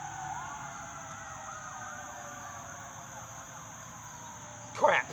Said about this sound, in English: oh no, there goes a siren.